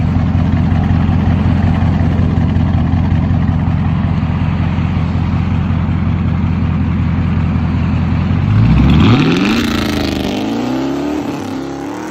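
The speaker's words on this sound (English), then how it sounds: "Sounds really good at idle too." A 2020 Dodge Charger 392 Daytona with a 6.4L Hemi and straight-pipe dual exhaust idles with a loud, steady, lumpy rumble near the microphone, then swells briefly with a quick rev near the end before settling.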